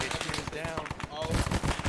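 Automatic gunfire from a machine gun in the Arma 3 Prairie Fire jungle setting, a rapid rattling burst emptying a full magazine over about two seconds, dense and close, with voices underneath.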